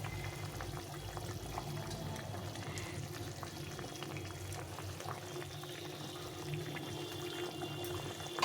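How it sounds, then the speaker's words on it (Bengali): Katla fish curry gravy with brinjal and tomato bubbling steadily in a pot as the fish pieces go in, a continuous moderate simmering and liquid churn with faint clinks, no talk. "ঝোলটা ফুটে গেছে, এখন মাছগুলো দিয়ে দেবো।"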